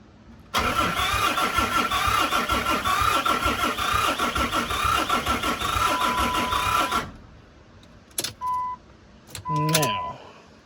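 Cheap Cummins diesel engine in a vehicle being revived, running with a rough, steady mechanical clatter for several seconds, then shutting off; afterward a few short clicks and brief whirring bursts as it tries to restart.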